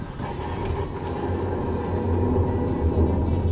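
Worn car brakes grinding metal to metal, a steady low rumbling scrape with a harsh droning band that continues without pause and grows slightly louder toward the end.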